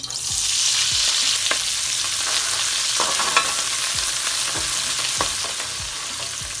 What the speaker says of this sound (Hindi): हल्का सा सौते करेंगे बस इसको।